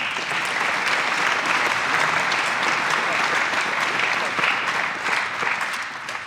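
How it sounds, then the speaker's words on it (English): Audience applause at the Lancaster Archery Classic youth male open finals, a dense, steady round of clapping from a sizable crowd that holds evenly loud for about six seconds. "Let's give him a round of applause."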